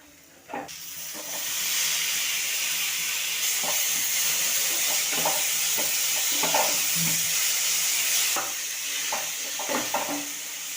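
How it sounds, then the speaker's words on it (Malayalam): Tomatoes dropped into a hot pan for pasta sauce set off a loud, steady sizzle and hiss that holds for several seconds, with occasional stirring knocks and scrapes, then eases slightly near the end. "നമുക്കിതിലേക്ക് തക്കാളി ചേർത്ത് കൊടുക്കാം കേട്ടോ"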